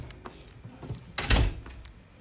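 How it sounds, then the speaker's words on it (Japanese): A door opens indoors with a soft knock and scrape building to a louder, fuller thud and rattle near the end, close by, with no talk over it. "あとドアが開いてしまったから"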